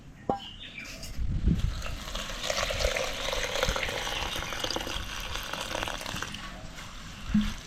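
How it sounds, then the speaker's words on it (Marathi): Dried kolim shrimp are being washed in water. Liquid swishes and splashes close by in a continuous stream, with a few sharper knocks near the start and the end. "इथे मी हा कोलिम आहे ना आधी धुवून घेते."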